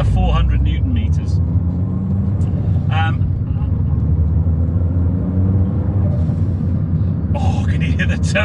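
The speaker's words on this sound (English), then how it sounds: "can you hear the turbos and the wastegates, even at just mooching speeds?" A 400bhp R56 Mini car driving at low speed, a continuous loud engine rumble with turbo and wastegate hiss and chatter, while a person talks over it.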